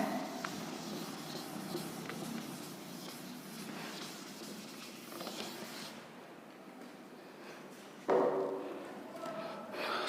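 Pen or marker writing notes for a geometry lesson on the scalar product, a steady soft scratching and tapping across the board, with faint background noise and a brief louder knock near the end.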